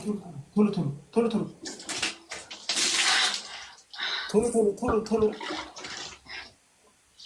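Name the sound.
water poured over a child during a shower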